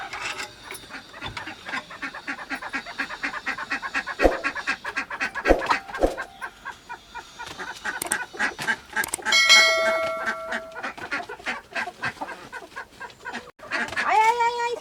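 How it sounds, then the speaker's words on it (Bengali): Village chickens clucking inside their coop in the morning, repeated close clucks and squawks from several birds, with a person talking throughout. "দেখুন বন্ধুরা, এই ঘরের মধ্যে মুরগিগুলো আছে।"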